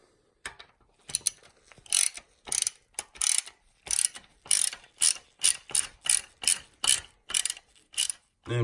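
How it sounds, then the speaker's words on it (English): A ratchet wrench loosening the two thermostat housing bolts on a big block Dodge engine, with rapid rhythmic clicking bursts repeating about a dozen times at close range, each burst a short run of sharp pawl clicks, no talking. "So then you just take your two mounting bolts out of the thermostat housing."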